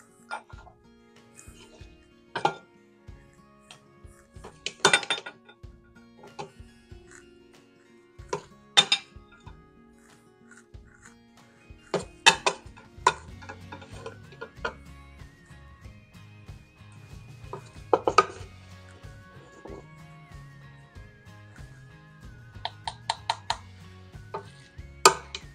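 Pots, lids and cutlery clink and scrape in a kitchen as pineapple chicken and rice is dished up, with scattered sharp metallic knocks and taps, soft low stirring rumbles underneath, and no talk.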